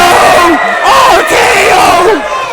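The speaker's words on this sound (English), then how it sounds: "Listen to this crowd chanting for Bobby" Wrestling video game arena crowd chanting in rising and falling waves, a loud, dense mass of voices filling the clip with rhythmic swells.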